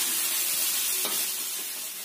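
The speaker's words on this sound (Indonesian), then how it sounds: "Kita tumis sampai tercium bau enak." Seasoning with sweet soy sauce and a little sugar sautéing in a pan while being stirred, a steady soft sizzle with scraping stir sounds, close and continuous, no talking.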